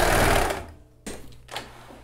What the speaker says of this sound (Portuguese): Vou fechar no overlock, vou pra reta, dou a costura de segurança e venho pespontando